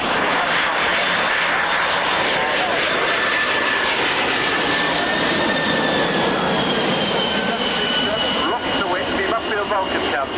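A United Airlines Boeing 767-200 jet passes close at an airshow, its engines giving a loud, sustained roar with a whine that slowly shifts in pitch over ten seconds, and no break in the sound.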